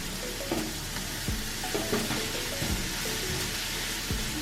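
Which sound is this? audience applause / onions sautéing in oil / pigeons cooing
onions sautéing in oil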